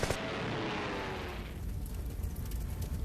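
Heavy gunfire at Midway erupts in a loud burst with a sharp attack, then a dense rumbling roll of shots and blasts that fades slightly but keeps crackling.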